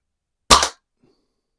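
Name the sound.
Quackenbush No. 1 air gun being fired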